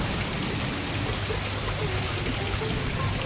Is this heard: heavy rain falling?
yes